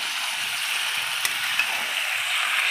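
Spicy marinated duck and chicken meat sautéing in a pan gives an even, close hiss of frying oil, with a couple of faint utensil taps.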